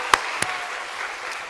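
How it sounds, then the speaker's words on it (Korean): Brief applause from a church congregation for students who have just sung a special song at a worship service: two sharp claps stand out over a soft, diffuse patter that continues faintly to the end. "더 큰 박수 부탁드리겠습니다."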